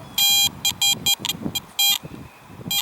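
Several short metal detector beeps sound in an irregular pattern in an old park, bright and clear, with quiet rustling between them.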